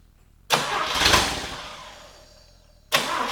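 A 1950 Willys Jeepster on choke cranks and catches with a loud burst, revs briefly and fades away, then a second start attempt bursts in at the end. The sound is close and mechanical.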